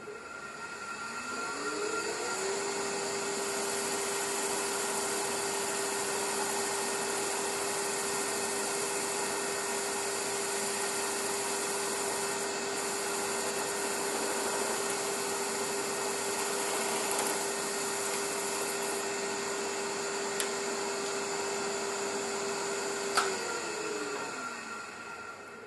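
A wood lathe parts off the top of a rustic birdhouse ornament, giving a steady, fairly loud whine and hum that ramps up at the start, holds evenly for over twenty seconds, then winds down at the end.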